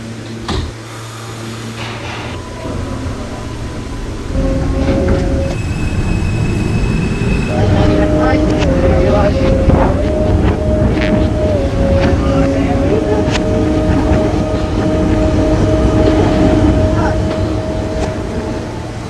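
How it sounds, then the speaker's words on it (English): A New York subway L train bound for Rockaway Parkway at Broadway Junction, a loud rumbling rush of railcars with squealing wheels and tonal motor whine, plus a chime and announcement-like voices, up close throughout. "Rockaway Parkway bound L train."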